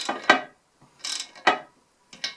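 Metallic ratcheting clicks from a wrench tightening wheel bolts on BBS RS wheels fitted to a BMW E30 come in four short separate bursts, close and fairly loud, with no talk.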